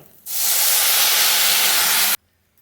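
Water poured into a hot pan of frying jujubes for pickle, setting off a loud, close, continuous steam hiss that starts abruptly and cuts off after about two seconds.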